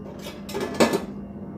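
A metal lid set down over idli steamer plates in a pot, a few soft clinks and scrapes building to one sharper metallic clack, close and brief.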